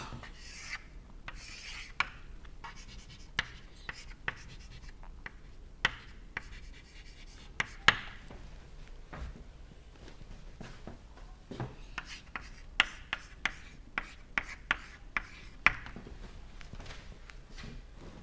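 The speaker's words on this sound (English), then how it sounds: "So, we will draw another graph" Chalk or marker scratching and tapping on a board while a graph is drawn by hand in a compressible flow lecture on a converging-diverging nozzle; intermittent short strokes and sharp taps over a quiet room, no talking.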